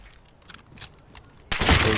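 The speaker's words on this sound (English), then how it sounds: "Gunshots boy." Gunfire in a video game bursts in suddenly and loudly midway, a dense rattling volley that continues to the end after a stretch of faint background noise.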